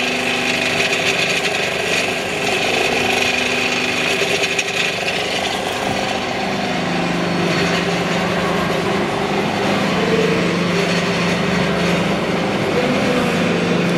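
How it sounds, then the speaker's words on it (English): A single phase induction motor runs close by with a continuous loud mechanical drone and steady whine, unbroken throughout, with no talk over it. "that is single phase induction motor."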